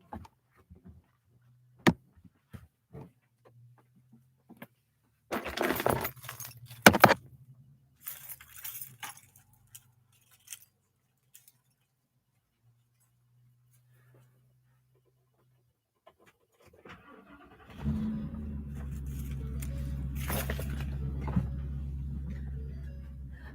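Keys jangle in a few brief metallic clinks, then a car engine starts and settles into a steady low idle that runs to the end.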